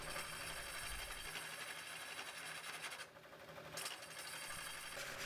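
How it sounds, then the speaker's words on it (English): A Clark deep hollowing system cuts inside a walnut vase on a lathe, giving a faint, steady mechanical hum with a light scraping texture and a brief dip in the middle before it resumes; no talking. "I've got my Clark deep hollowing system now mounted to the lathe, and it's time to finish up the inside"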